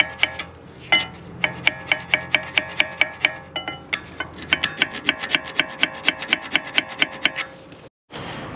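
Metal file rasping back and forth across brake pad hardware from a Mazda CX-5 rear brake job, steady repeated strokes roughly every half second, close and loud, ending with a brief pause.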